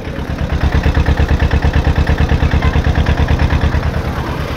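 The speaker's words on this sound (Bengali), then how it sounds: "আমি ইঞ্জিনের সাউন্ডটা দেখাচ্ছি একটু।" A Tata pickup truck engine idles loudly and steadily, its rapid rhythmic chugging continuous throughout with no voices.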